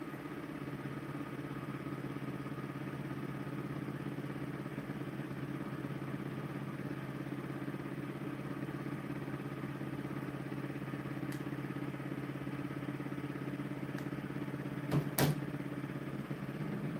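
A pulse motor runs steadily at about 1,000 RPM, giving a continuous low, even mechanical hum with no change in rhythm, plus a short clatter near the end.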